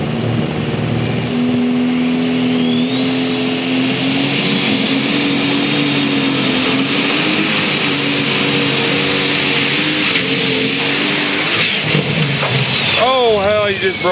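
Super Stock 6200 2WD pulling truck roaring loud and steady at an Illinois State Fair truck pull in Springfield, with a rising high whine building across the pull, crowd and announcer noise mixed beneath.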